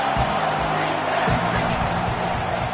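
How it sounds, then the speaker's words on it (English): A football stadium crowd swells into a sustained roar with cheering and whoops, loud and continuous throughout, while a commentator's voice sits faintly in the mix. "This crowd rising up, sensing that its defense needs some help."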